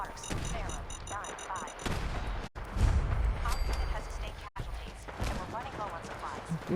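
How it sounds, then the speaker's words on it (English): Gunfire in the video game Fallout 4, bursts of shots and heavy booms scattered among game sounds and effects, loud at moments with brief dropouts between stretches. "Gunfire."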